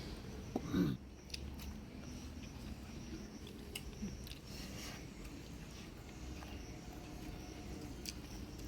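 Someone eating fish curry with rice, soft, close chewing and mouth sounds with a brief louder bite near the start, faint over a quiet outdoor background.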